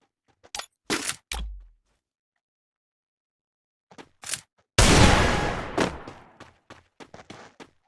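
Desert Eagle fire in the mobile shooter Free Fire: a burst of sharp, loud close shots, then a long booming blast with a decaying tail, followed by a scatter of quicker, softer pops, with silent gaps between bursts.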